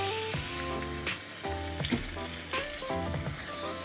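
Egusi soup base with crayfish frying in a pot, a steady close sizzle broken by repeated spoon stirs and scrapes, over a faint tonal background.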